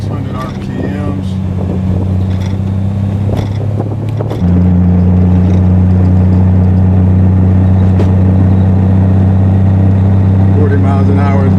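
A Triumph TR6 engine drones steadily in second gear at around 30 mph and 2,600 RPM, a loud low hum with wind noise that steps up slightly in pitch partway through while the car keeps driving.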